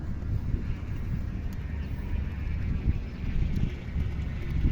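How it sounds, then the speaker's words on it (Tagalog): Strong wind buffets the microphone with a steady, rumbling roar that swells and gusts throughout. "Tingnan natin kung kaya niyo yung malakas na hangin"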